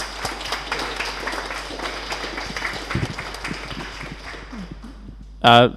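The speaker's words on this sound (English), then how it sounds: "a big applause for Moot" An audience at a Paraflows talk applauds as moot of 4chan is welcomed to the stage, moderate scattered clapping that tapers off before a brief loud burst near the end.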